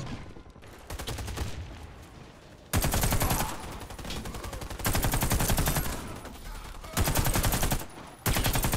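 Rapid automatic gunfire from the online shooter Warface in team deathmatch on Xbox One X, loud sustained bursts alternating with brief quieter gaps, with no talk over it.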